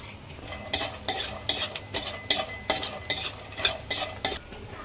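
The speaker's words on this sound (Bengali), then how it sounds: "এবার আমি বড়িগুলো ভেজে নেব।" Bori lentil dumplings fry in mustard oil in a kadai, with a regular rhythm of loud scraping stirring strokes over a soft background sizzle and no talk.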